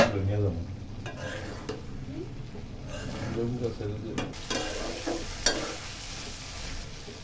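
A shrimp curry is gently stirred in a pan over the stove, soft scraping and sloshing strokes over a low sizzle, with a brief metallic clink partway through.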